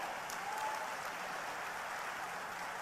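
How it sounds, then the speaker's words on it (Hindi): Steady applause from a large crowd at a political rally for the Prime Minister in Harda, Madhya Pradesh, sustained and fairly distant, with no voices over it. "जोरदार ताली बजाकर प्रधानमंत्री जी का अभिनंदन करें"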